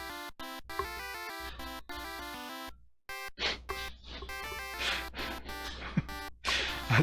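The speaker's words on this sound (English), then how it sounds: "You break down the door. Smash the door." Retro chiptune game music from Ultima: Warriors of Destiny on the NES, a steady square-wave melody that gives way to a burst of harsh, noisy crashing effects as a door is smashed, loud and up front with no talk.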